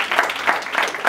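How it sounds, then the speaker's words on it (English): Audience applause in a seminar crowd for the under-20s, a dense burst of many hands clapping together, loud and close, with no speech over it. "can we give them a round of applause?"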